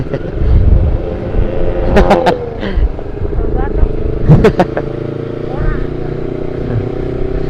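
A Honda CBR 250RR sport motorcycle engine idles and revs with a steady mechanical hum and a few sharp rises in pitch, under nearly constant nearby talking.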